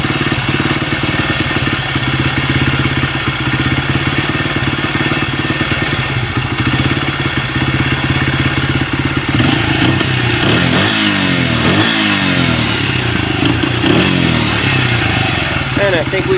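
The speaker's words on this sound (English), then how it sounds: "Look at that, she's idling and the choke lever is down." A Honda XR80 dirt bike idles with its choke lever down, a loud, close, steady single-cylinder putter with slight wavering and a brief rise in revs midway, while someone talks over it.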